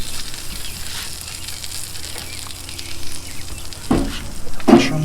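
Mushrooms and bacon frying in a pan with a steady, loud sizzle throughout, a few sharper crackles and scraping stirs near the end, no talking.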